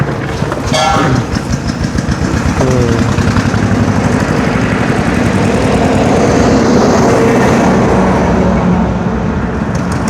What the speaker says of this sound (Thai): เดี๋ยวเอาให้เพิ่นเอารถไถเข้ามาก่อน